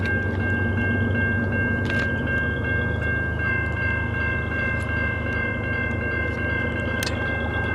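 A freight train rumbles steadily past at close range, a CN train with a CSX locomotive trailing, its rolling wagons grinding with faint squeals and clanks throughout.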